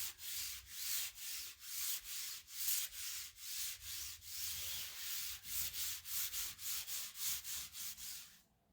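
A chair seat gets wiped by hand in rapid back-and-forth rubbing strokes, about two per second, each a soft scratchy swish, steady and close with no voices.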